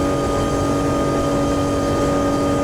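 Rolls-Royce Trent engines of an Airbus A330 in the X-Plane 10 flight simulator drone loudly and steadily after leaving Heathrow, a dense roar with sustained tonal whine and no talk.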